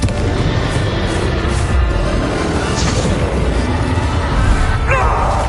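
Spell explosions in the Hogwarts Legacy video game, Confringo and Bombarda blasts thudding in dense succession as loud, continuous booms and crashes mixed with crackling bursts and battle noise, close and heavy throughout.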